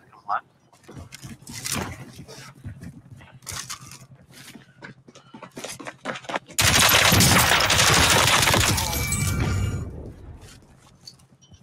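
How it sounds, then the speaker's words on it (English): Gunfire in the battle royale shooter Warzone during a tournament match: scattered sharp shots at first, then a dense, loud burst of sustained automatic fire from about six to ten seconds, with a player's voice talking over it. "Taking fire over here!"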